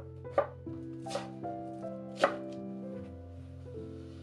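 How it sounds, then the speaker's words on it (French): A knife chops through a spring onion bulb on a cutting board, three or four crisp separate cuts spaced about a second apart over a steady low hum, no talking. "Pour l'oignon botte, commencez par émincer le bulbe avec 10 cm de la partie blanche."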